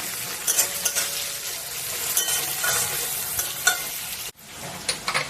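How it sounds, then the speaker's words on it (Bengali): Chopped onions fry with whole garam masala and bay leaf in a pan for an egg and cauliflower curry, giving a loud, continuous sizzle with repeated stirring scrapes close by and a brief break near the end. "লাল লাল করে ভেজে নেবো।"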